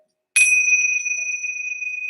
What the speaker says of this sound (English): These are bells.